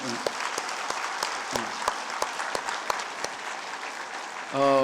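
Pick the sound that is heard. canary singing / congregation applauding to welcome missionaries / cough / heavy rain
congregation applauding to welcome missionaries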